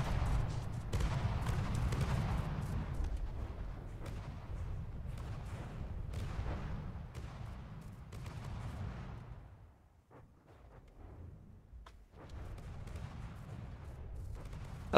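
Gunfire in the World War II video game Finest Hour rumbles as a long, muffled barrage of distant shots and booms, easing briefly partway through before picking up again.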